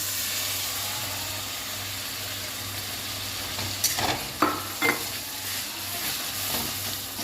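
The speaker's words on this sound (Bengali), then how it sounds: "পেঁয়াজটা একটু ভাজা ভাজা হোক।" Onion paste frying in melted butter for cashew butter paneer, a steady close sizzle with a few louder scraping stirs of the spoon against the pan midway, no talking.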